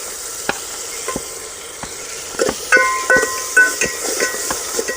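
Dried red chillies sizzle in hot oil in a village kitchen while rasam is made, a steady close crackling hiss broken by sharp pops and stirring clinks, growing busier toward the end.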